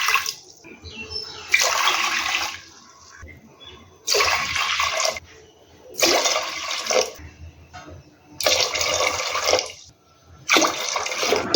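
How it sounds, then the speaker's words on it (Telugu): Water is measured out and poured into a pressure cooker of rice in a home kitchen, coming in several separate splashing pours with quiet pauses between them. "ఏ గ్లాస్తో బియ్యం తీసుకున్నామో ఆ గ్లాస్తోనే వాటర్ కొలుచుకోండి"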